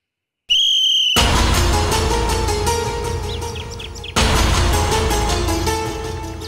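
A whistle blown sharply once, a short shrill tone near and alone, followed by indoor commotion and clatter.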